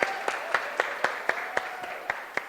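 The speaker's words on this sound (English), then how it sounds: "Round of applause, ladies and gentlemen." Applause at a social media awards show, with crisp, regularly spaced claps standing out over a steady background wash of crowd noise.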